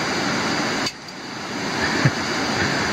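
A muddy creek runs high after heavy rain upstream in the mountains, giving a steady, dense rush of water near at hand. The sound dips briefly for a moment and then resumes, with no voices.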